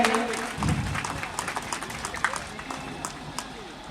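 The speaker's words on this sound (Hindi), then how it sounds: "एक बार जोरदार ताली बजाएंगे हमारे डायरेक्टर सर के लिए" A school annual day crowd claps for the director, a dense steady patter of applause with voices and cheering mixed in throughout, moderately loud and continuous for the whole stretch.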